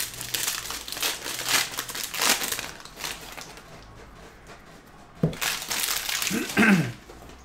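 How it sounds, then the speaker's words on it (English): A foil Donruss NBA basketball card pack wrapper is torn and crinkled open in several bursts of crisp crackling, close up, with a quieter pause before a final loud rip. "rip open that pack"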